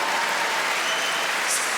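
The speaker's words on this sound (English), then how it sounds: "Round of applause for Dave." Steady applause from a comedy show audience fills the room, a dense, even patter of many hands clapping close by without a break.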